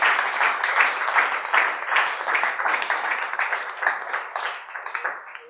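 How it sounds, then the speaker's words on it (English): A crowd applauds a presentation on analog scan processing with sustained, dense clapping that stays fairly steady and then begins to thin and soften toward the end. "Okay, now you can applaud."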